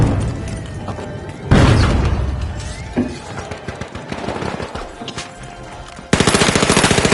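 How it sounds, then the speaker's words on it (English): In The Finals, loud rapid gunfire crackles close by. A frag grenade's blast booms with a shattering burst, and another sharp barrage of shots breaks in near the end. "Frag grenade out!"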